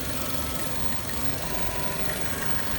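A 2015 Chevrolet Corvette Stingray engine idling roughly with a vacuum leak, a steady close mechanical rumble with a dense, uneven texture and no talking.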